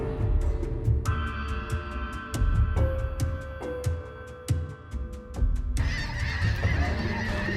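A flock of snow geese honks loudly and repeatedly, overlapping calls with a steady outdoor rumble underneath and no talking.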